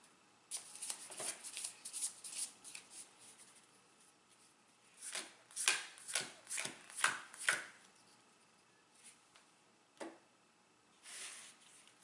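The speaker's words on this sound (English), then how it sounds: "Now I need to draw 6, but I have to shuffle." Playing cards for a Legendary Buffy the Vampire Slayer deck-building game being shuffled by hand close up, a run of quick riffling rasps and taps in several short bursts with small gaps between them, fairly quiet and with no talk.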